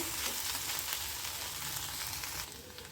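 Okra (lady finger) fries uncovered in an open pan, giving a steady, even sizzle that holds throughout with no voices over it.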